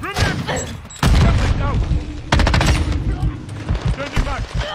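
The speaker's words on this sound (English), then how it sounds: "They're shooting at me." Bursts of gunfire in the video game Call of Duty Modern Warfare II, loud rapid automatic volleys and sharp individual shots with heavy thumps, repeated in clusters across several seconds, with a player's voice talking over the fighting.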